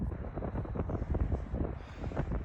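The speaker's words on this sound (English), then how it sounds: "So it is super windy." Strong wind buffets the microphone in continuous, gusty rumbles, loud and close, with no other sounds standing out.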